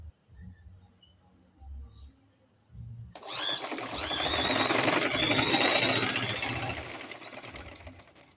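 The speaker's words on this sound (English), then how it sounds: "And machine stitches." Sewing machine stitching a lined front-slit long skirt, a brief quiet pause with light handling noises, then a loud rapid whirring rattle of stitching starting near three seconds, swelling and running steadily to the end.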